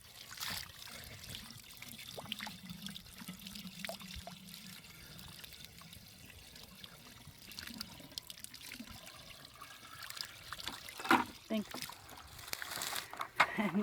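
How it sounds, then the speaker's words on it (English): Water from a bucket poured down into a hole to prime a pump at a hybrid bluegill pond, faint trickling and splashing spread over the clip, with people talking over it. "he's going to put the water down in that hole, fill it up."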